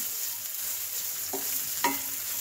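Ground spice paste is stirred into a sizzling tempering in a pan: a steady close frying hiss with two brief scraping stir strokes, no talking.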